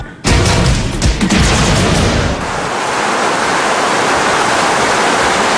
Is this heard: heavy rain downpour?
yes